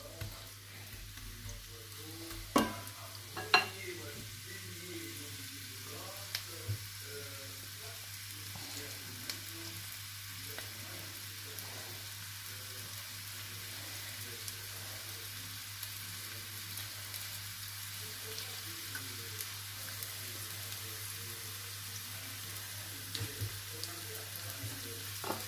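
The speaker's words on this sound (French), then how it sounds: "je fais revenir mes oignons" Onions sauté gently in a pan, a soft steady sizzle with faint crackles and a few sharper clicks and clinks of utensils, fairly quiet and unbroken by talk.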